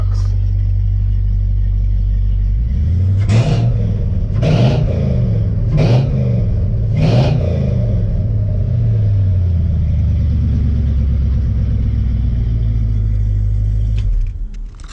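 A diesel engine swapped into a classic Chevrolet C10 truck idles with a deep rumble, then revs four times in quick succession before settling back to idle and cutting off.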